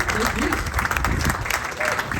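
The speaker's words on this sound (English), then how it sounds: "Let's give her another round of applause." Audience applause for a folk singer on the Telles Stage at the Tucson Folk Festival, dense lively clapping throughout, with voices mixed in over the crowd.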